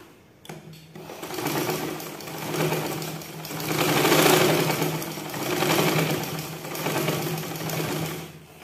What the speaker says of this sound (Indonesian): Baru ini kita jahit.